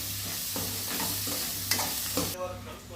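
Prawns fried earlier are added to onions frying in a pan and stirred in, producing a continuous sizzle with a few scraping stirs and a couple of sharper knocks, close and quiet, without speech.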